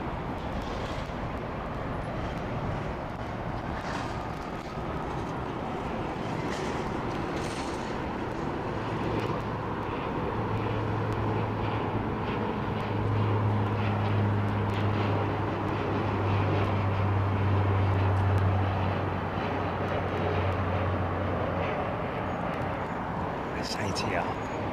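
An ATR turboprop airliner departs Heathrow, a steady droning engine roar with a low propeller hum that swells toward the middle and then eases, heard at a distance while someone talks over it.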